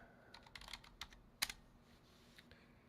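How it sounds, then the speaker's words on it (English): Computer keyboard being typed on to enter a help command: a quick, quiet run of light key clicks with one sharper keystroke, over a faint steady hum. "I type help."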